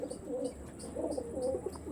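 Several Andhra tournament pigeons give low rolling coos in a continuous, rhythmic chorus, close and moderately loud, with no voices present.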